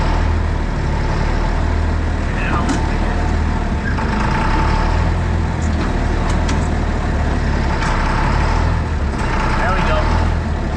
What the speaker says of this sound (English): Didn't want to start that army truck, that diesel.